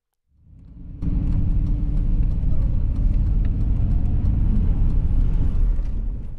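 A van drives along a heavily traveled road near Parker, Arizona, with a steady, loud engine and road rumble that swells in at the start and holds close throughout.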